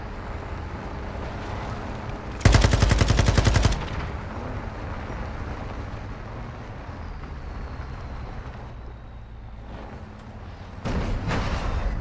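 Automatic gunfire in a video game campaign aimed at a convoy driver: a loud rapid burst of about a second, a long stretch of low rumbling ambience, then another rapid burst starting near the end.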